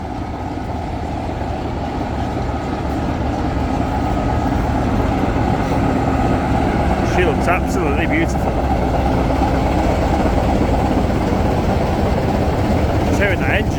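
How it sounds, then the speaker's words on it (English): A vintage 1965 Manchester-built diesel locomotive idles at a heritage railway diesel gala, its low, steady engine rumble running beneath close talk throughout. "Hearing that engine just tick over is impressive."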